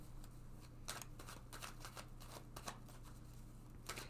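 Tarot cards being shuffled by hand, a quiet run of papery riffles and flicks with irregular bursts, close up and without any voices.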